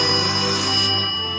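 A phone ringtone sounding loudly and close, a steady bright electronic tone held through the short moment.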